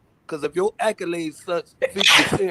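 Someone talks, and then a sharp, forceful sneeze bursts out near the end. It is close and loud and comes right after the speech.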